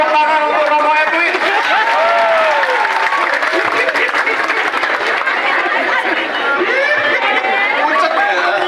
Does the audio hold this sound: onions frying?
no